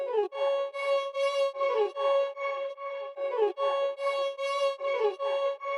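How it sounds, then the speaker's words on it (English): A bright, high-pitched bowed melody repeats short sliding phrases in a steady rhythm, sustained notes rising and falling with no other instruments beneath. "it's this high-pitched violin lead"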